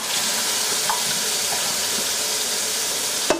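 Cold water runs from a tap during bottle cleaning with a steady, loud, hissing gush that ends in a short knock.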